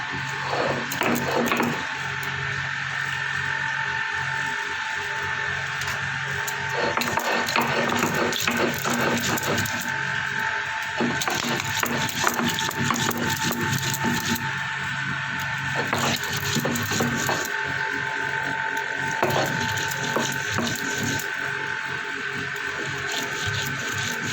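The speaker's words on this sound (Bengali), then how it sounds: "মশলাটা আমি এবার বেটে নেবো আদা কাঁচা লঙ্কাটা" Ginger, green chilli and cumin ground by hand on a grinding stone, a steady close scraping and rubbing with repeated rhythmic strokes running throughout, no talking.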